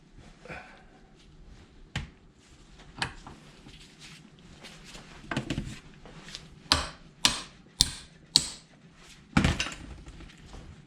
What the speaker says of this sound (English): I'm just going to have to keep on turning this out of here with the pipe wrench